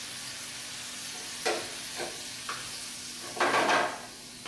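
Butter melts in a pan with garlic shrimp, giving a quiet steady sizzle broken by a few brief scraping stirs and one louder hissing burst near the end.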